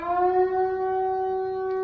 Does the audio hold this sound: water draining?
no